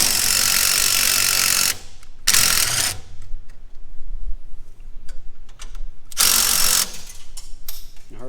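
Loud bursts of a power drill whirring during a coil-over and radius arm lift install on a 2022 truck, three separate runs of a couple seconds each, with clattering and handling noises between them.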